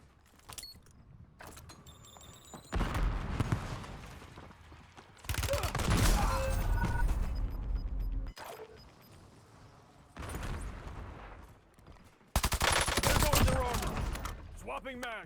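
Bursts of automatic gunfire in Warzone Resurgence, several loud sustained volleys separated by quieter gaps, with occasional talk and game sounds between them.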